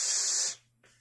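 A voice imitates a constant spray of fuel with a steady, breathy hissing sound lasting about half a second, followed by a brief faint breath.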